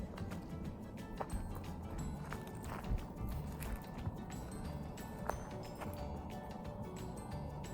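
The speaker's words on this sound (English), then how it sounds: "Our wild ponies." Wild ponies moving around a campsite near the Grand Canyon, with soft, scattered hoof clops and shuffling over a steady outdoor background, fairly faint and with no talk.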